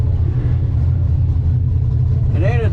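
Corvette drag car at an NMCA event at US 131 Motorsports Park, its engine giving a loud, steady, deep rumble close by, with a brief voice near the end.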